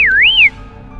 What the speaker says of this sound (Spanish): Siguió su camino y de nuevo el silbido apareció